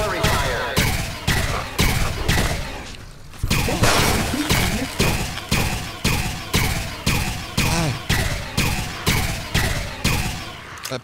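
Repeated gunshots in the video game Fallout New Vegas: about twenty loud, sharp reports fire in a steady rhythm, each with a short decaying tail, broken by a brief pause early on.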